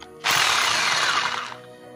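A power drill bores into a wall while a broken dish TV antenna is reinstalled: one loud, close, continuous whirring burst of just over a second, heard alone with no talking.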